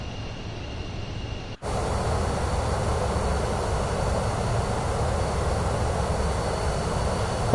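A Beechcraft King Air B350 turboprop in Microsoft Flight Simulator 2024 drones steadily after a brief cut, a loud continuous engine roar with broad hiss, unchanging and close.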